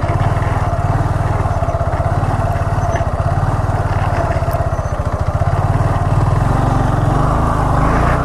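A Honda Grom motorcycle engine drones steadily and loudly through leg-down sitdown circles without clutch work, holding a low, continuous buzzing note that rises slightly near the end.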